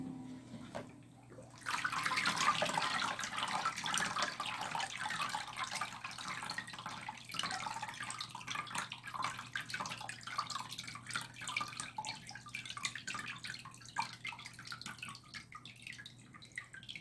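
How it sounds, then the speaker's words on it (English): Steady rush of water pouring and splashing off a papermaking screen of pulp fibers, continuous and fairly close, with a faint low hum underneath and no talking. "Just let the excess water pour off."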